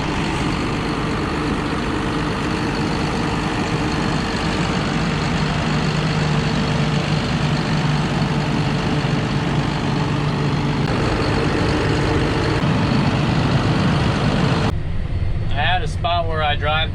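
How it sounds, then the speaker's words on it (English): A John Deere 7830 tractor pulls a chisel plow across a long, snake-shaped field, its engine a steady, loud, low drone throughout, with the sound changing abruptly near the end. "tag along while we chisel plow with the new to us tractor"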